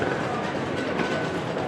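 The Arlanda Express airport train between Stockholm Central and Arlanda rumbles along in a steady, loud roar of wheels and rails with a faint tonal whine, heard close from on board.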